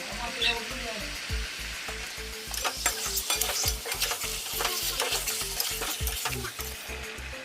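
Potatoes coated in biryani masala sizzle in a pan while a spoon stirs and scrapes them in a quick, regular rhythm. The frying hiss stays loud and continuous beneath the strokes.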